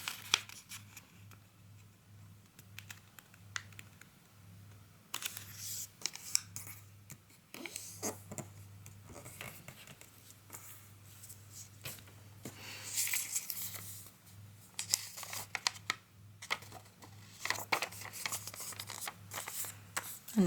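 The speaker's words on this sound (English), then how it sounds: "we're going to fold it diagonally in half" Square origami paper for a sushi-themed model being folded diagonally in half, with soft crinkles, rustles and creasing swipes scattered over twenty seconds, close but quiet over a low steady hum.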